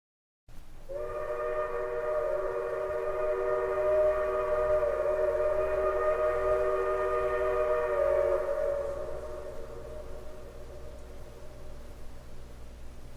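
A steam locomotive whistle sounds one long, steady chord for about eight seconds, then fades, leaving a low rumbling background.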